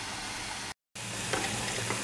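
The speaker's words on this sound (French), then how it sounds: "Je rajoute de l'eau dans ma casserole et je porte à ébullition" Water in a saucepan coming to a boil while the pan is deglazed, a dense, even sizzling hiss close by, cut by a short silent gap, then bubbling on with a few scraping accents.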